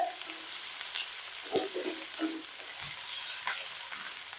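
Onion sautés in oil toward golden brown with a soft, fairly faint hiss, broken by a few scattered spoon scrapes and light clinks on the pan, and nobody speaks.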